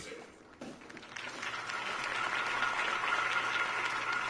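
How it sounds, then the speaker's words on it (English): Applause from a crowd swells after a brief quiet start and continues steadily as a broad, sustained wash of clapping. "could have heard that applause"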